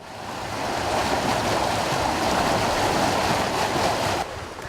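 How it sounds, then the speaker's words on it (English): Raw sewage gushes from a pipe into a desert wash that feeds the Santa Cruz River, a loud, steady, close rushing roar of pouring water that drops slightly in level near the end. "That is the sound of raw sewage spewing out of a pipe into a wash"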